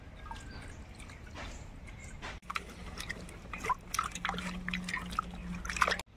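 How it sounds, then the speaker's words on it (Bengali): Carrots being washed in water, close soft splashing, dripping and light handling sounds coming in scattered bursts, quiet overall. "গাজর ধুয়ে নেবো ফার্স্টে।"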